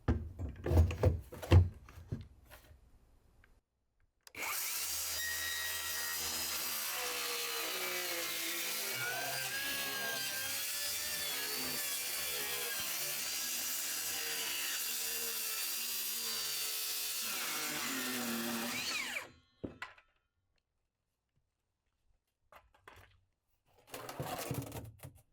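A power tool cuts through a plastic drum in one loud, steady, continuous grinding burst of about fifteen seconds, with brief handling clatter before and after.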